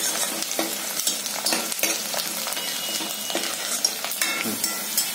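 Green chilies and onion sizzle steadily in a pan while a spoon stirs and scrapes through them in repeated strokes, with light clinks of utensil against metal; close and continuous, no talking.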